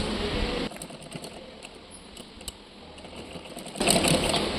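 A sewing machine top-stitching the collar of a Panjabi dress, with a short burst of fast whirring stitching at the start and another at the end, separated by quiet handling clicks and rustles, close by.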